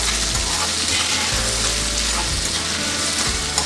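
Tomato sautéing in a pan for a cauliflower and potato dry curry, a loud close sizzle with periodic stirring scrapes, continuous and without talk.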